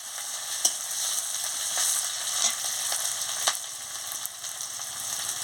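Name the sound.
green chili and ginger paste frying in oil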